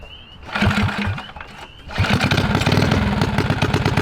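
A custom full-suspension mini dirt bike engine is cranked, sputters briefly, then catches and settles into a steady, loud, close idle with a rapid puttering rhythm.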